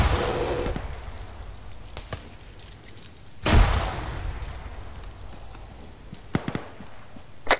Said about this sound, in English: Who's chucking nades?